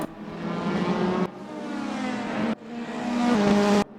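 An independent BMW race car in a DTM event at Hockenheimring, in the RaceRoom sim, climbs through three rising revs, each cut by a sharp upshift, the engine note strong and close.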